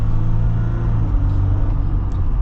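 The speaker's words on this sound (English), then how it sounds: "So we're gonna get our acceleration here with the EcoDiesel." A 2023 Jeep Wrangler Rubicon EcoDiesel accelerating, heard as a loud, steady low diesel engine drone with road rumble, recorded close from inside the vehicle, with no speech.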